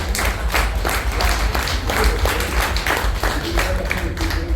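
An audience at a Siddharth Nagar, Goregaon redevelopment meeting claps in a loud, sustained burst of many hands, fairly close and steady throughout.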